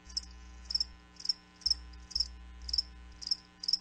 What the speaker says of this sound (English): That's right, crickets